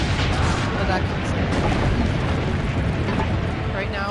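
Cannon fire and explosions boom in an Assassin's Creed battle, a loud, continuous wash of blasts and rumbling mechanical clatter with faint voices mixed underneath.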